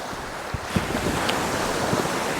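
Ocean waves roll onto a snowy winter beach in Poland, a steady wide roar of surf mixed with wind buffeting the microphone and faint splashes.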